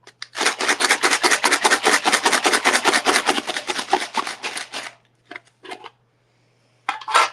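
A collection of small found objects used for divination is shaken hard in a container, giving a loud, continuous rhythmic rattle for several seconds, then a few brief clattering shakes after a pause.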